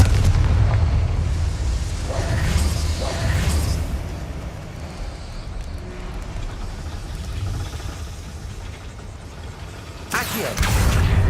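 A Confringo fire spell explodes in Hogwarts Legacy gameplay, a deep booming blast with a rumbling tail amid ongoing low game effects and music, followed near the end by another loud burst.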